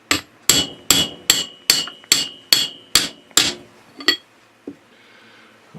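A hammer taps a part evenly around its edge to seat it during assembly: about ten sharp, evenly spaced metallic knocks, followed by a couple of softer, slower taps as it settles.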